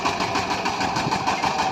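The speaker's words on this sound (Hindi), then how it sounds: "अभी ये ट्रैक्टर आगे चलाने के लिए रेडी हो चुका है।" A VST Shakti 130DI 13hp diesel tractor engine runs steadily and loudly close by, a continuous rough mechanical chug with even knocking pulses throughout and no talking.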